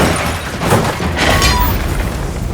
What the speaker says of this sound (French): ce bruit, c'est le bruit d'une voiture qui s'est écrasée